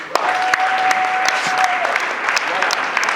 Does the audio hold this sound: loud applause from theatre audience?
yes